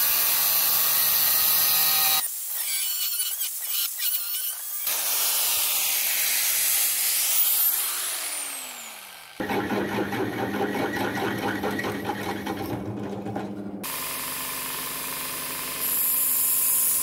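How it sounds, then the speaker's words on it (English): Metal edges of a steel mount for a wood gasifier generator are chamfered into a V-groove for welding, probably with an angle grinder: loud, continuous grinding that stops and restarts in several long passes with changing pitch, close up and with no talk. "I'm just putting a chamfer on some of the edges. That's to make a V-groove for the welding."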